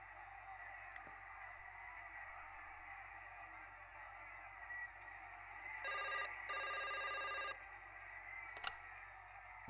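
A telephone rings in the Broken Sword 5 video game, a short burst of electronic trills near the middle, fairly faint over a steady hum of background ambience, with a couple of sharp clicks around it.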